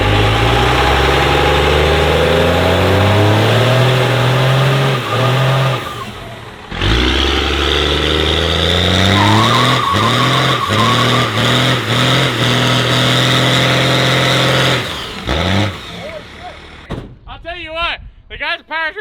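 A first-generation diesel truck engine with a VE rotary injection pump cranks and fires right up, then idles and revs loudly up close, with a door sound partway through and someone talking over it.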